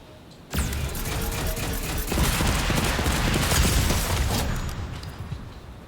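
Gunfire in the Fortnite video game comes in a sudden burst and then keeps up as rapid, dense shooting and crackling for several seconds before fading out.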